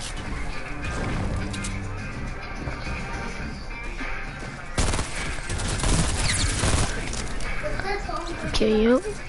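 Gunfire in Fortnite, scattered shots and short bursts mixed with crashes and impacts, fairly loud, heard under frequent talking from a player.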